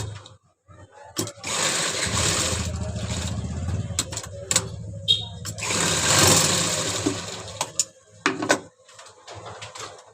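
A sewing machine hums steadily in two long runs, stitching around the edge of dhoti salwar fabric, with brief knocks and clicks between the runs and some talking mixed in.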